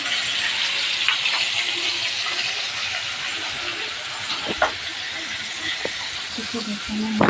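Fish frying in a pan in a home kitchen: a continuous bright hissing sizzle with occasional small pops and utensil knocks, steady and close throughout.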